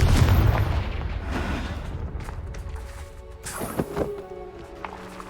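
Confringo fire spell blasting in the game Hogwarts Legacy: a heavy boom opens, then rumbling decay with a few sharper bursts and crackles later on.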